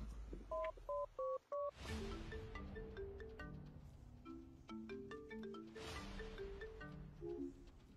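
Telephone keypad tones in a short run of distinct beeps, followed by a ringback-style pattern of alternating tones as a mobile phone is dialed; clear and close, with no talk.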